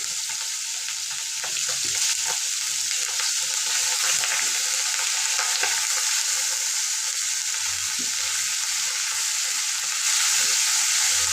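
Garlic, ginger and onion paste with salt frying in hot oil, a steady bright sizzle throughout with a few scraping stirs, close and loud, no talking.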